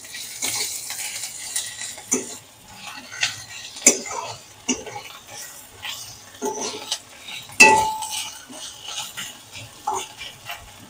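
Chopped ginger and garlic are stirred in a cooking pan, with intermittent scraping and clinking of a spatula against metal over a faint sizzle, the sharp knocks spaced irregularly and fairly close.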